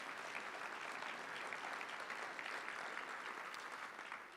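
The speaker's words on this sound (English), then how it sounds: "Let's give him a round of applause." An audience at an economic forecast event claps steadily for the master of ceremonies, a dense, even round of applause that tapers slightly at the end.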